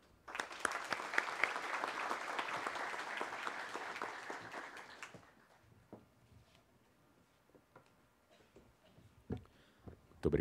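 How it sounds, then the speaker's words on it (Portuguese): A crowd claps for about five seconds at a conference opening ceremony, a dense wash of applause that fades to scattered knocks and shuffling in a quiet room. "Aqui eu gostaria de pedir um salva de palmas para o Enates"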